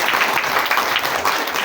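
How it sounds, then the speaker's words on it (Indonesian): Audience applause at a community iftar and rice distribution event, dense continuous clapping from a crowd, loud and close throughout. "Tepuk tangan buat teman-teman PCM"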